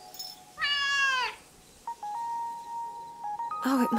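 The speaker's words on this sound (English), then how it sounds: "And a cat?" A cat meows in a rising, drawn-out call up close, followed by a steady electronic tone and then another short meow, with no talking over it.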